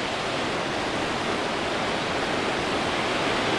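Steady broadband roar of ocean waves washing onto a beach at an early-morning run, continuous and fairly loud with no distinct breaks or voices.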